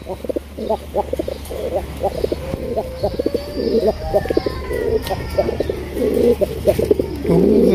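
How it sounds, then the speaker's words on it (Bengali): A large Raj Golla pigeon cooing repeatedly up close in a rhythmic series of low throaty coos, with faint background hum and occasional distant chirps. "আমি আশা করিনি যে বাইরে কবুতর ডাকবে"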